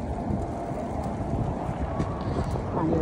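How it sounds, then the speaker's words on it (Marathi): Strong wind roars steadily across the microphone at a high, foggy viewing platform above Tallinn Old Town, a dense continuous rumble with no talk. "खूप वारा पण छान वाहतोय"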